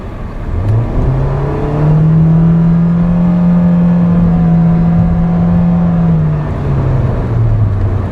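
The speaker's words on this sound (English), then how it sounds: "So when you're trying to accelerate, the tachometer looks something like this." A 2013 Nissan Sentra with a CVT automatic accelerates with a steady, droning engine note that holds at a nearly constant pitch, lifting slightly before easing back down. The tone is loud and close, with no talking.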